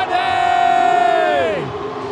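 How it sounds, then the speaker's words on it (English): Basketball arena crowd in Indonesia roars loudly and steadily during a CLS Knights versus Singapore Slingers game, a sustained cheer with a rising whistle-like tone that swells and then fades near the end. "The crowd is electrified."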